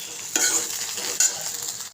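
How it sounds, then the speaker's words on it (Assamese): Onion and tomato fry in a pan with a steady close sizzle, broken by two stirring scrapes of a utensil. "পিঁয়াজ আৰু বিলাহীকেইটা ভাজি থাকিব লাগিব গতিকে মই এতিয়া ভাজি আছোঁ"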